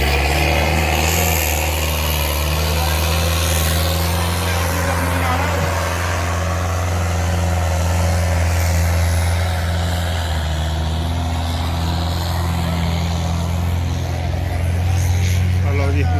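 A loud, steady diesel engine of a homemade jugaad tractor drones without a break at a tractor contest in Nurmahal, Punjab, its heavy low rumble filling the whole stretch.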